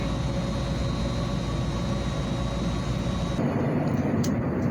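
A continuous low rumble with a faint steady whine while riding aboard a moving train, even in loudness, shifting slightly in tone late in the stretch, with no one speaking.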